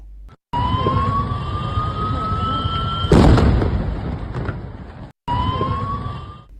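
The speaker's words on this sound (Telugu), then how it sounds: "ఆ కొద్దిసేపటికే పెద్ద మంటలతో అంబులెన్స్ బ్లాస్ట్ అయింది" A wailing ambulance siren sounds close and loud, then a sudden booming blast cuts in as the ambulance explodes in flames, followed by continued roaring fire noise.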